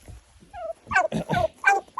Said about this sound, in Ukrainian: Ось такі в мене дикі індики.